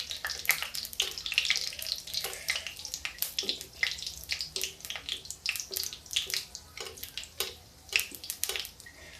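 Oil trickles along the side of moong dal pakoras frying in a pan, making bursts of crackling sizzle and spattering. The sound rises and falls with each pour and carries no speech.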